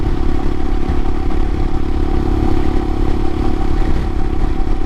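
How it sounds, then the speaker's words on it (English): A 2022 Royal Enfield Himalayan with a Hitchcocks carburetor conversion accelerates in fifth gear, its engine a loud, steady low drone with clattering mechanical noise and rushing wind throughout. "at this speed in fifth, you get engine noise and you accelerate"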